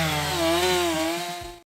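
Chainsaw cutting through a log held on a sawhorse, a loud steady engine whine with strong harmonics running nearly two seconds, then stopping abruptly.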